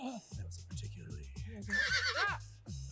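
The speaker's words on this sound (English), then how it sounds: "A spider horse." A spider horse in the animated film Spider-Man: Across the Spider-Verse gives a loud, shrill whinny in the middle of the moment, set against rhythmic low film sound effects and music.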